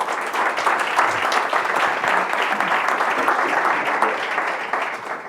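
An audience at a conference in a hall applauds steadily, a dense even clapping that holds at full strength for several seconds without voices.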